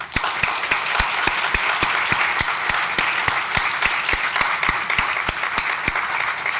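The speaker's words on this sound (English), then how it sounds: "Can you please give him a round of applause?" An audience at an awards ceremony applauds a student leader, a steady round of clapping in a hall, dense and sustained for several seconds.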